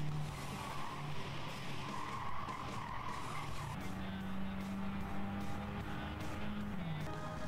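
Race cars roar through a lap of a PlayStation 5 racing game, engines whining and rising in pitch while tires squeal and skid continuously. The sound is loud and dense throughout.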